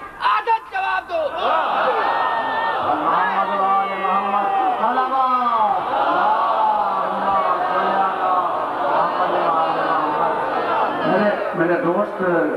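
A large crowd at a majlis shouts slogans in loud, sustained unison, with rising and falling chanted calls that fill the space continuously, close and powerful.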